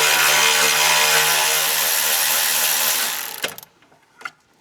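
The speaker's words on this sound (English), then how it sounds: "Make sure your ratchet's on loosen," Loud continuous whirring of a power ratchet loosening a bolt on a Mustang, stopping abruptly after about three seconds, followed by a couple of brief metallic clicks and clanks.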